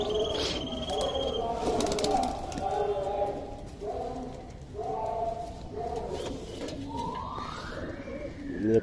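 An Andhra Madrasi pigeon coos in soft, repeated low phrases at close range, with someone talking over it throughout.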